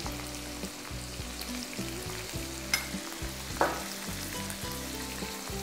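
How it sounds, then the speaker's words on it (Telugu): Paneer cubes and onions fry in an oiled pan, giving a continuous close, dense sizzle with a steady crackle and a couple of clinks from stirring, with no talk over it. "5 మినిట్స్ ఈ పన్నీరు ఈ ఆనియన్స్లో వేసిన తర్వాత మనం ఇవి వేగుతూ ఉండగానే"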